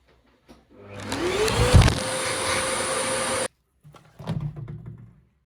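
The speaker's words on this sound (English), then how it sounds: "I'll test the sandblaster on these rusty pieces of metal." A sandblaster connected to a vacuum cleaner blasts rusty metal pieces with a loud, steady hiss and roar that starts after a click and cuts off abruptly, followed by quieter shuffling and a brief second burst.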